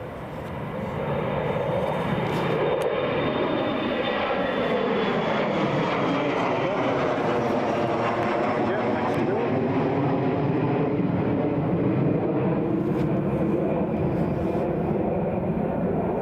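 An Emirates Airbus A350XWB departs Newcastle International Airport, a loud, steady jet engine roar that swells within the first second and holds through the whole passage, with the pitch slowly sweeping as the aircraft moves past.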